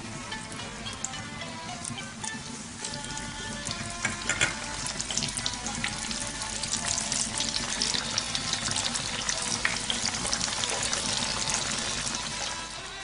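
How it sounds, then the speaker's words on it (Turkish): Steady, dense sizzling and crackling of rice-filled börek frying in hot oil, loud and continuous throughout with no talking. "diğerlerini de aynı şekilde kızartmaya devam ediyoruz"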